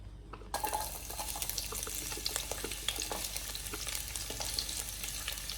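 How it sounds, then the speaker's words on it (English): Onions crackle and sizzle in hot oil, a dense steady frying hiss with small pops and occasional stirring, close and continuous. "Whilst the onion is frying"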